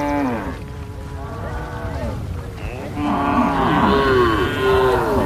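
Cattle at a Wodaabe herding camp moo repeatedly, several overlapping low and rising calls from nearby animals, growing louder and more layered in the second half amid a background murmur.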